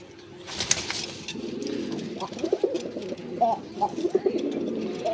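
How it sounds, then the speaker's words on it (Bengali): Pair of Rasgolla pigeons cooing in soft, repeated low throaty phrases, fairly close, with some faint background noise and a brief rustle early on. "বন্ধুরা এখানে এক জোড়া রাসগোল্লা কবুতর আছে"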